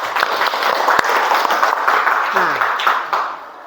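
Students in a seventh-grade classroom clap their hands in a short burst of applause while a teacher speaks over it.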